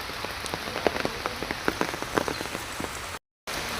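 Steady rain pattering on a surface, with dense scattered drop impacts throughout and a brief dropout near the end.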